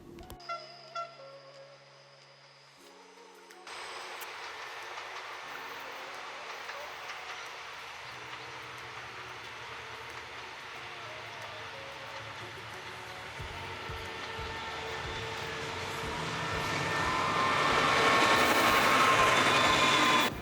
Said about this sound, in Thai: ขบวน 14 ขบวนรถไฟเชียงใหม่กรุงเทพอภิวัตรมาถึงจนได้แหละ